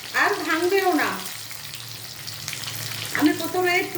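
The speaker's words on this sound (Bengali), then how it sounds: "এঁচোড়গুলো একটু লাল লাল করে আমি ভেজে নেবো।" Jackfruit pieces frying in oil in a pan until reddish, a constant close sizzle that runs under a person speaking at the start and end.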